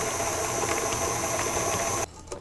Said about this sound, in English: we're going to just keep mixing it with the paddle attachment until it's really light and fluffy